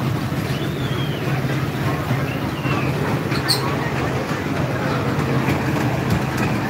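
An amusement park ride train rumbles along with a steady low drone and mechanical clatter, loud and continuous, while crowd chatter and voices murmur throughout.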